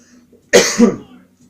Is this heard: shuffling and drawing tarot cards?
no